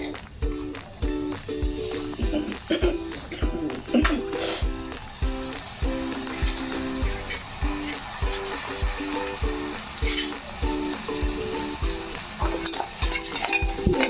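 Onions and green chillies sizzle in a few spoons of hot oil for Andhra-style bottle gourd dappalam, with a steady frying crackle and repeated spoon scrapes against the pan, close and continuous.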